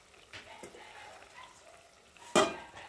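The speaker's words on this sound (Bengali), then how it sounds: "এখন এই দেখো ঝোলের মধ্যে মাছগুলো ঢেলে দেবো" Quiet simmering rohu fish curry gravy ticks softly before a sudden, louder splash-and-sizzle near the end as the fish pieces are poured into the pot.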